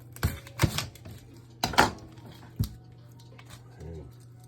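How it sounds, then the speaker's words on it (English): An onion is being diced with a knife on a board, giving four or five sharp, separate chops spaced unevenly, close and fairly loud over a quiet kitchen hum. "gonna dice up a little onion here"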